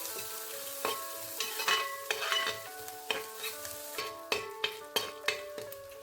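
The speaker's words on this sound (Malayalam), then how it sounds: "ഇനി നമ്മുടെ ആ സവോള ചെറുതായിട്ട് അരിഞ്ഞത് കൂടി ചേർത്ത് ഒന്ന് നന്നായിട്ട് വഴറ്റിയെടുക്കണം കറിവേപ്പില കൂടി ചേർക്കാം" Finely chopped onion and curry leaves sauté in a pan for corn uppumavu: a soft, constant sizzle under a regular series of sharp spatula taps and scrapes against the pan.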